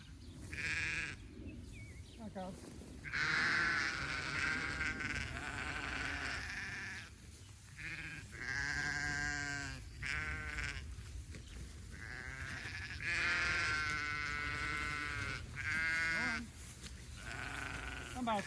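Sheep bleating in a paddock during rain, several loud, wavering calls repeating one after another, with a person's voice heard between them.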